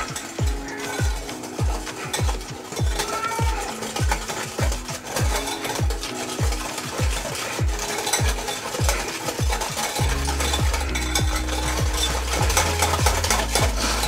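Lemon juice and water stirred in a bowl for lemon muffin cream, with steady rhythmic scraping strokes repeating about twice per second, close and clear, and a low musical hum joining near the end.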